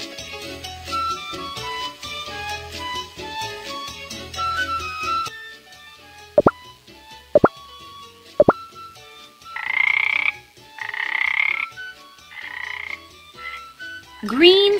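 A green frog croaks in a bright, cartoon-like style: a short run of quick, sharp clicks, then a few louder croaks, heard alone over a light musical backing.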